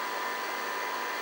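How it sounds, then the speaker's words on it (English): A DTK Data 1000 computer's hard drive whirs steadily during boot, a constant close hum with a faint high tone and no distinct clicks. "Hard drive seeking."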